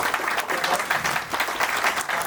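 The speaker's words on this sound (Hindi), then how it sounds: "और एक बार जोरदार तालियां हमारे दोनों एंकर्स के लिए।" An audience at a bank clerk training cultural programme claps loudly for two anchors, a dense continuous burst of many hands with slight swells and no break.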